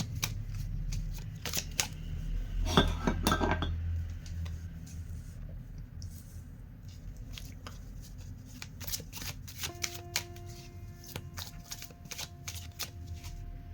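Tarot cards are shuffled close up in soft, repeated riffling and sliding bursts over a quiet room background, with no one talking.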